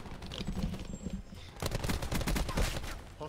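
Rapid automatic gunfire in Call of Duty Black Ops 4 multiplayer, loud bursts of repeated shots filling the second half after a stretch of game ambience, with a player's voice briefly underneath.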